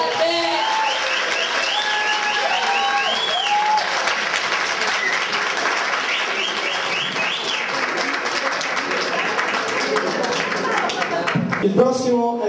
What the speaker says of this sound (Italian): mi fate solo un applauso per Heath Ledger, il premio Oscar che ci ha lasciati